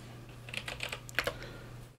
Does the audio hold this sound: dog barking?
no